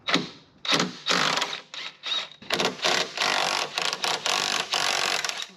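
A power ratchet or impact tool backing out the mount bolts on a 2015 Subaru WRX STI, loud close bursts of whirring, rattling mechanism separated by short pauses.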